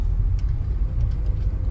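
Road traffic near roadworks, a dense low rumble of idling and slowly moving car engines, loud and close, steady and continuous with no voices.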